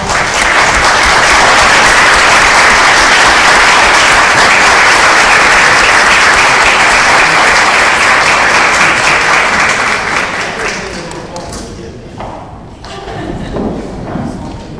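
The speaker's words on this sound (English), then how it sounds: "give a round of applause for all of our contestants" Sustained loud applause from an audience at a chamber of commerce awards event, honoring contestants; dense clapping fills most of the clip before thinning out near the end.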